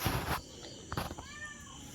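A kitten gives soft, faint meows against quiet indoor background noise, one short call near the start and thinner ones after it, with no talking over them.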